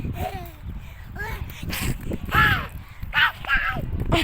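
Harsh crow-like caws repeat several times at moderate distance, mixed with bursts of excited child-like voices.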